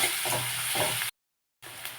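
Salted onions hiss and sizzle in a pan as they are stirred with soft scraping strokes, cut by a brief silence before the frying resumes.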